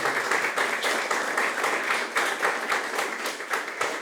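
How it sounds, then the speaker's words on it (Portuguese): Audience applause at a launch event celebrating Almeida Prado's 80th anniversary, a steady, dense clapping from a room full of people that carries evenly from start to finish with no voices over it. "Uma salva de palmas para a Ana, que está aqui conosco."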